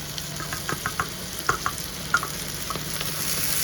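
Rice sizzles in a hot pan for Schezwan fried rice made with chicken pickle and egg: a steady, close frying hiss with scattered crackles and light stirring scrapes.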